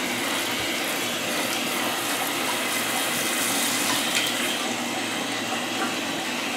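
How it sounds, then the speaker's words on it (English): Water spraying from a handheld shower wand onto a silver Persian cat during a bath, a continuous loud hiss and gush with no pauses and no talk. "We start wetting them down."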